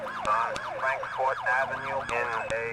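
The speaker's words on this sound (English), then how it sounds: "It's a really nice siren." A police siren in GTA 4 with the LCPDFR mod, rising and falling in a fast repeating wail, loud and close, with sharp clicks at intervals.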